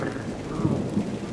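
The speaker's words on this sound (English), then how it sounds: "It just started coming down, raining." Heavy rain pours steadily outside during a storm, a dense, continuous hiss with low rumbling underneath, heard from fairly close and without any voices.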